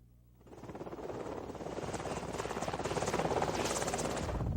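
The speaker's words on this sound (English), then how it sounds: "an interceptor helicopter lands at an elementary school" A U.S. Customs interceptor helicopter landing at an elementary school, its rotor chop rising quickly from quiet into a loud, steady, rapidly pulsing thrum that keeps building as it comes down.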